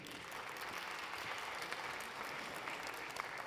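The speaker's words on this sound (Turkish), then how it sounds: "Alkışlarınız Albert Adria için" Audience at an international gastronomy conference applauding Spanish chef Albert Adrià, a steady dense clapping from a crowd, faint and distant throughout.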